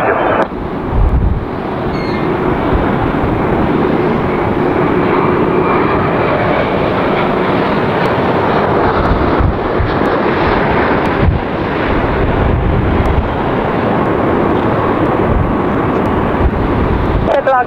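Jet airliners roaring loudly and steadily at LAX, Los Angeles airport, a continuous engine rumble with wind buffeting the microphone throughout.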